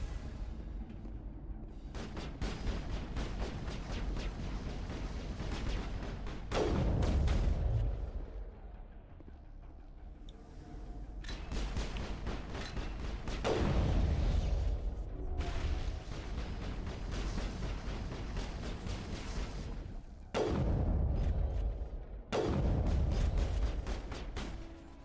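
Repeated bursts of gunfire and booming blasts in the sci-fi video game Mass Effect, heavy and rumbling, coming in several clusters with brief lulls between them, with no talk over them.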